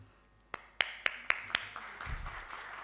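At an investment conference in Kampala, a few sharp, separate claps ring out in an even rhythm, followed by a brief swell of scattered clapping and a low murmur.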